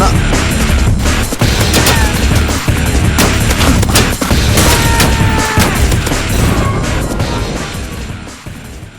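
Rapid AKM rifle fire from a video game, dense bursts of loud shots and booms crowding the whole stretch with sharp cracks throughout, no talk over it.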